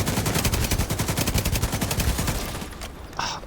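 Reliable LMG light machine gun in The Division 2 firing a long rapid automatic burst, sharp evenly spaced shots that trail off after about two and a half seconds, followed by a brief faint clatter.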